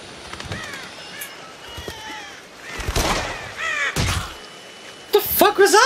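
Crows caw repeatedly in the horror shooter game Until Dawn: Rush of Blood, with harsh calls scattered across the scene and a louder burst near the end, while someone talks over them.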